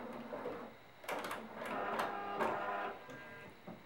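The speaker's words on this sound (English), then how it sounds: "You just put it under your sewing machine, just do a quick little tack." A sewing machine makes a quick tack stitch to hold elastic on the back of a pencil skirt: short bursts of rapid mechanical whirring and clicking, moderately close, separated by brief pauses.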